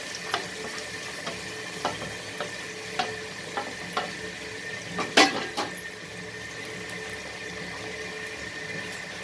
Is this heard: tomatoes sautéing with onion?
yes